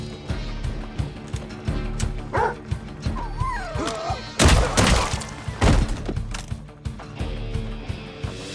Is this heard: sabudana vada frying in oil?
no